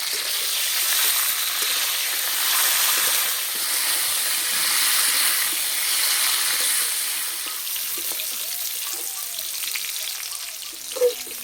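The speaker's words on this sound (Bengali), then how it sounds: "সেজন্য পটলটা আলাদা করেই ভেজে নিতে হবে।" Pieces of pointed gourd (potol) fry in hot oil with a loud, continuous close-up sizzle and crackle that eases slightly toward the end, where a single utensil clink sounds.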